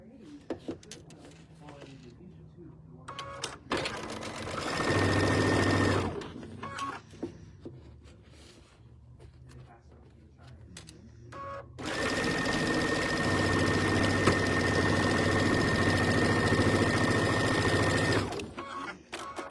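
A sewing machine stitches the final seam of a quilt block in two long steady runs of fast mechanical whirring, separated by a pause filled with small handling clicks and rustles.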